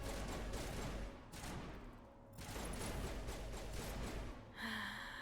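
Dense bursts of gunfire in the video game Mass Effect Legendary Edition, steady rapid volleys that briefly thin out and then resume, loud and continuous with no talk over them.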